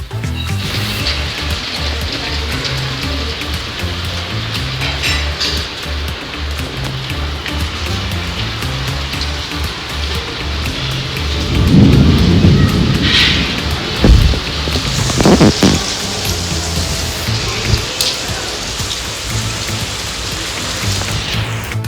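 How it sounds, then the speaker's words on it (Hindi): A heavy storm brings steady loud rain drumming on surfaces, with gusting wind throughout and a few sharper bursts like distant thunder or strong gusts midway, and no voices. "इतनी ज़ोरदार बारिश हुई है, बहुत ही ज़ोरदार हवा, तूफान, बिजलियाँ"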